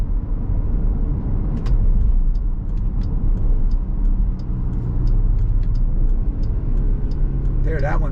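Steady low engine rumble heard from inside a moving 2020 Jeep Grand Cherokee Limited during a downshift, with a short rising rev near the end.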